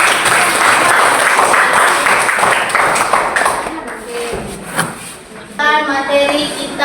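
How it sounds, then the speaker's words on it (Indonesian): An audience claps together in a classroom-style session on Buya Hamka and Gus Dur, a burst of applause that fades after a few seconds, followed by a voice talking and some knocking. "Tepuk tangan semuanya."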